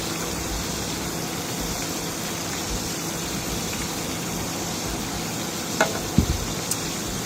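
Steady, loud sizzling of breaded fish frying in a hot pan, a continuous crackle with a couple of brief clinks near the end.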